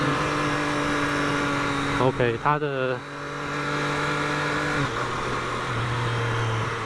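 Downshifting through the gears on a 2023 Triumph Street Triple 765RS motorcycle: the steady engine drone breaks into quick blips and revs around the gear changes, then settles to a lower hum, with brief talking over it.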